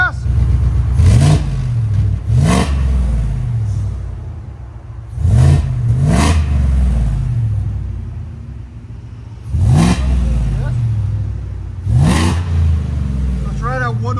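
A supercharged Ford F-150 5.0L V8 with headers and a Black Widow muffler, valve closed, revs in several throttle blips. Each climbs and falls back to a deep, loud idle rumble up close, with voices heard between revs.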